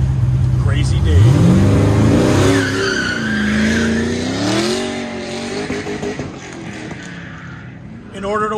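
A little Datsun 280Z autocross car revs hard and skids with squealing tires through a course, engine pitch climbing and falling as it accelerates close by, then fading, with an announcer and crowd voices over it.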